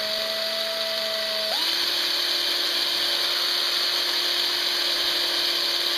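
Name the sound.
power drill running in reverse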